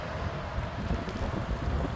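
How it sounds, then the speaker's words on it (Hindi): Strong wind blowing outdoors during heavy January rain, heard as a steady, loud broadband roar buffeting the microphone with no talking. "और तेज़ हवाएं चल रही हैं"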